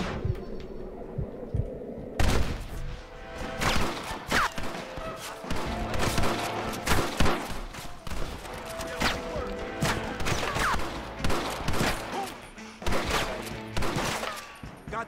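A Red Dead Redemption shootout crackles with repeated gunshots and volleys, loud irregular bangs over a busy game backdrop of music and effects.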